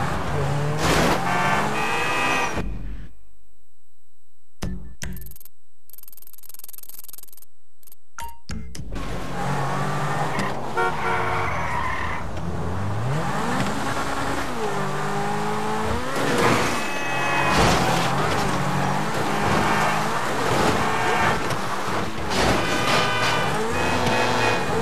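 Cars race and skid in GTA 5, with engine revving, tire squeals and a horn toot. A short quiet gap falls early, and game characters speak over the driving throughout.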